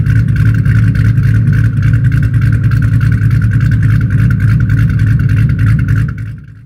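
A Ford Mustang 3-valve V8 fitted with aggressive aftermarket cams idles loud and close with a heavy, choppy lope, its rumbling exhaust pulses steady throughout before fading at the end.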